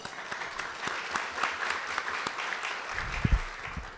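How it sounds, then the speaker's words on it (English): An audience applauds at an event on youth entrepreneurship, with steady clapping throughout and a few sharper nearby claps toward the end. "Let's all give Isabel a round of applause."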